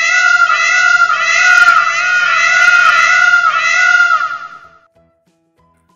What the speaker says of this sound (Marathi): मोरांची केकावली,